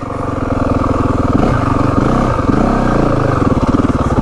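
A 2025 Yamaha WR 450F dirt bike is ridden in second gear, its loud single-cylinder engine thumping close and rapidly with a steady throbbing drone and slight rises in pitch.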